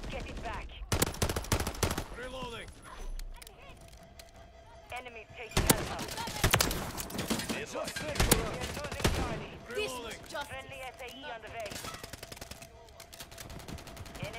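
Bursts of rapid automatic gunfire and single shots from a Call of Duty match ring out, loud and close, over game effects while a player talks excitedly throughout.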